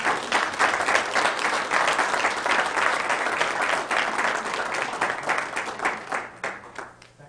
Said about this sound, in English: One more time, give them a round of applause.